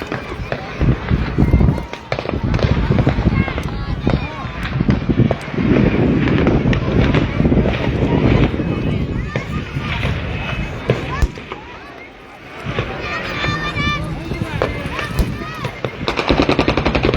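Celebratory gunfire welcoming returning pilgrims in Amran, Yemen: loud, dense bursts of rifle and automatic fire crackling continuously, mixed with shouting and voices of a crowd throughout.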